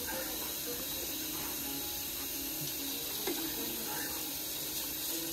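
A tap runs steadily into a sink while dishes are washed, a constant hissing stream of water with faint clinks in the background.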